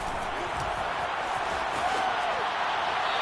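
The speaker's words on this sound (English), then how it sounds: "You can already start to hear this crowd. They're saying, go for it." Football stadium crowd at a third-and-goal play, a dense continuous roar of many voices chanting together, loud and steady throughout with a commentator's voice faintly over it.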